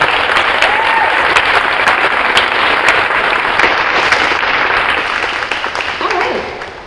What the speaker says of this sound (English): how about one more round of applause for these guys?